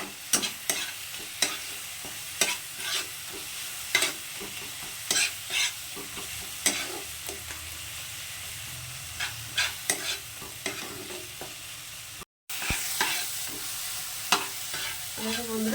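Chilli powder and coriander powder being stir-fried in a pan for a rice ghonto: close, rhythmic spatula scrapes and clacks over a soft, steady sizzle, with no voices.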